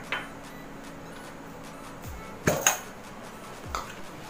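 A mixer grinder jar being washed: a faint, quiet background broken by a few distinct clinks and knocks of the jar, two close together and one more shortly after.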